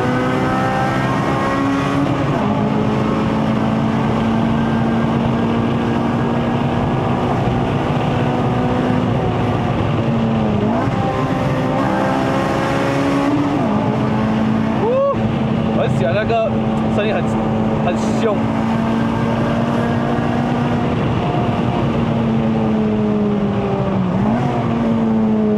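A 2008 Honda Civic Type R FD2R climbing a mountain road toward Genting in Malaysia, its engine droning loud and close from inside the cabin, rising and falling through high revs with gear changes, a voice talking over it.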